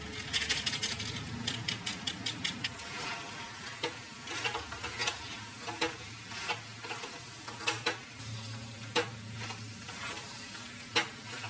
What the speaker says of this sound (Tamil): இந்த மசாலோட பச்சை வாசம் போகிற அளவுக்கு நல்லா வதக்கிடணும்